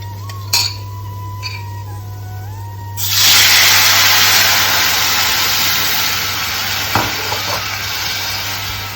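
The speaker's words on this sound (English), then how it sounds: "starts spluttering, add this tamarind rasam powder mixture" Tamarind rasam powder mixture poured into a hot tempering of spluttering mustard seeds sets off a sudden, loud sizzle that settles into a steady hiss over a low constant hum.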